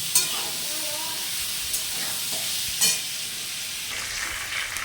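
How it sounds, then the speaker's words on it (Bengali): Spice-coated fish fries in a pan for a Bengali fish curry, giving a steady, close sizzling hiss with a few brief louder spits and crackles and no talking. "মাছগুলো ভাজা হলে তারপর আপনাদের সাথে শেয়ার করছি"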